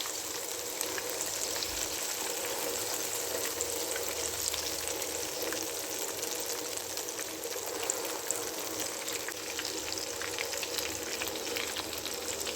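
Fish fries in a pan over a low flame, giving a steady, even hiss of oil with fine crackling, close and continuous; no voices.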